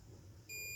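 A steady high electronic beep from a multimeter continuity test on a ceramic capacitor by the LAN chip starts halfway through and holds, over a low background hum.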